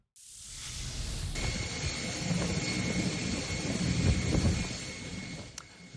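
Heavy rain in Dubai, during a storm that dropped more than a year's worth of rain in a single day, pours down as a steady, dense roar. It cuts in abruptly and holds loud and unbroken for several seconds.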